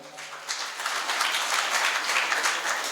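Audience applause after a call to clap during a morning religious discourse in Himmatnagar, a steady wash of hand clapping that builds within the first half second and holds at an even level throughout.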